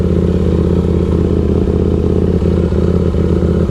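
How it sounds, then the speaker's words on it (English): A KTM RC8C motorcycle at speed on a race track gives a loud, steady engine drone with faint mechanical clatter, close and continuous. "I'm riding an RC8C."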